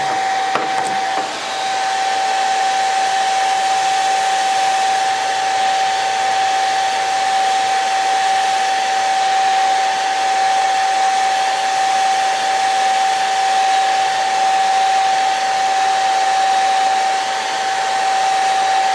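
A hair dryer blowing on wet watercolor paint, a loud, steady, continuous whirring hum with a high whine that runs unbroken throughout, with no talk.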